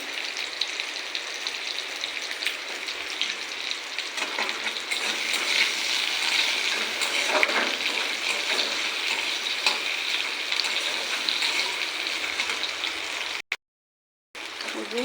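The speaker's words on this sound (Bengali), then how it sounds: "কেটে রাখা আলু দিয়ে দেবো।" Cut potatoes fry in hot oil in a pan for potato posto, a dense, continuous sizzle with stirring scrapes, steady and close, then a brief cut to silence near the end.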